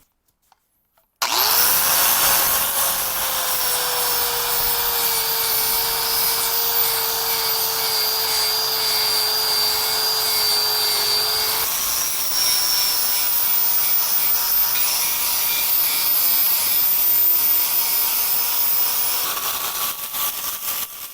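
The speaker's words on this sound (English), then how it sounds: "we're going to need to grind all this down." A power grinder works on bent metal on a Scag mower, running as a loud, close, continuous whine that shifts pitch partway through, with a brief clatter just before it starts.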